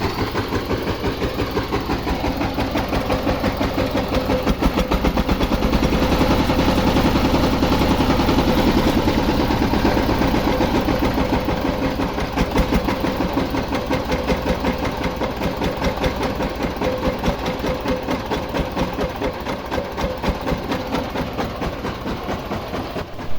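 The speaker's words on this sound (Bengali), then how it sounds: "ইঞ্জিনের সাউন্ডটি কিন্তু অনেক সুন্দর অনেক ক্লিয়ার সাউন্ড কোনো বাজে ধরনের কোনো সাউন্ড নেই" A second-hand power tiller engine idles continuously, a loud, close, steady rapid chugging rumble that holds without pause or voices for over twenty seconds.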